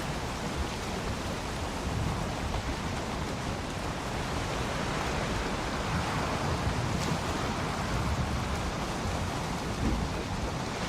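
A storm rages in the Valheim game world: a broad, roaring wash of rain and wind, steady and loud throughout with a faint surging quality, no talking over it.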